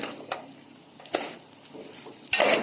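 A spoon stirs toasted vermicelli and rice in a pot with a faint sizzle, giving a few soft scraping strokes and a louder scrape at the end. No voices.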